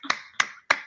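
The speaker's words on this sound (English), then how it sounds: "hand clap" Three sharp hand claps in quick succession, evenly spaced and close by, each a crisp snap with a short decay.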